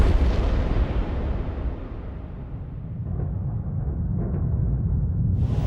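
A deep, rumbling explosion sound effect standing in for a solar eruption, loud and sustained with a heavy low roar that slowly fades and a faint brighter burst near the end.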